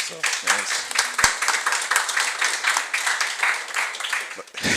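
Audience applause at a podcast taping: dense, steady clapping fills the clip, loud and close, with voices and whoops mixed in over it.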